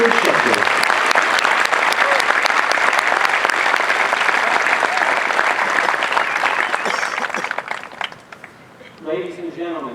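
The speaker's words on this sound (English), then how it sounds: "how about a round of applause for our newest Master Military Training Instructor" Audience applause at an Air Force basic military training parade, a dense sustained ovation of many hands clapping outdoors that tapers off near the end before a voice begins speaking over a loudspeaker.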